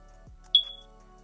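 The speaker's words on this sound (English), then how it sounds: "it'll play a smoke detector battery low sound" A single short, high electronic chirp sounds once in a quiet room, like a smoke alarm signaling a low battery.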